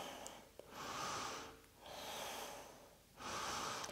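Slow deep breathing during a seated yoga twist, three long airy breaths each lasting about a second, close and soft, with quiet pauses between and no speech.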